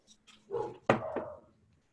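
Indoor dogs give a few short barks, a faint yip followed by two louder, close barks in quick succession, brief and alone.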